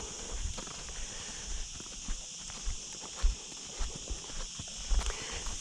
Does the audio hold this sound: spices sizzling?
no